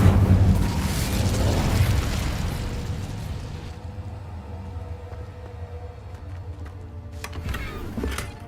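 A fire spell explodes in Hogwarts Legacy: a deep, rumbling boom that swells and slowly fades into a low roar, followed by a few fainter pops and thuds.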